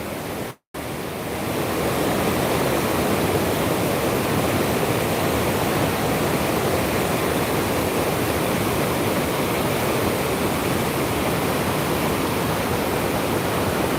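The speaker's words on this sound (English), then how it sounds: "we are taking you even closer to the Hope River, where the water is coming over." The flooded Hope River in Gordon Town, St. Andrew, rushes after Hurricane Melissa: a loud, unbroken roar of churning water, close by, after a brief cut at the start.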